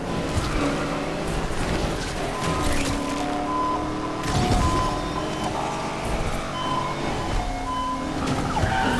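Cars race in Need for Speed Unbound with roaring engines, repeated tire squeals and skids, and whooshing passes, a dense and continuous loud mix throughout.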